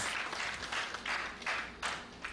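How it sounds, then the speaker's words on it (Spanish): A church congregation claps loudly in praise during a service, with several bursts of hand clapping rising and falling in quick succession, no voices over them. "Le da fuertes palmas al Señor Dios Todopoderoso"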